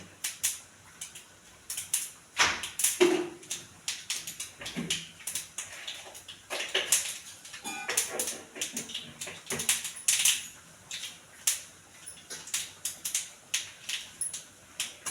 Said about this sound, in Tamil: உளுத்தம்பருப்பு, கடுகு நல்லா பொரியுது